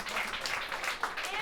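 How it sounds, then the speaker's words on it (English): Guests at a book launch in a restaurant give quick, light applause for the owner and his food, a short soft patter of clapping with voices murmuring underneath. "Big up and big round of applause for lovely Roberto and the food."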